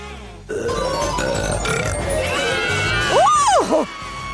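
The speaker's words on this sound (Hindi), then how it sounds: "और अब एक असली डकार।" A long, loud burp after gulping down a bottle of Coca-Cola, with a rising and falling tone that swells near the end, heard on its own without talk.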